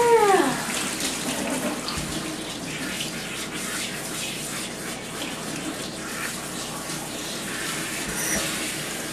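Steady running water pours during a cat's bath, a continuous splashing rinse that holds at a moderate level throughout.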